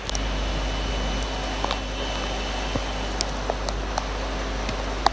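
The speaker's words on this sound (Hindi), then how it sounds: "अब ये देख रहे हो बहुत ज़ोर से बारिश हो रही है, ठंडी ठंडी हवाएं साथ में।" Heavy rain pours steadily with a cool wind after several hot days, a dense constant hiss with a few faint ticks and drips scattered through it.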